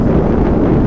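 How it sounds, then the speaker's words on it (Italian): Strong wind buffets the microphone outdoors in Veneto, a loud, continuous low roar with no pauses and no voices. "Porca di quanto vento c'è qui"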